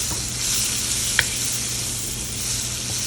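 Onion and scotch bonnet hot pepper sautéing in oil give off a steady, soft sizzle with a light stir and one brief clink partway through, close by and without talk.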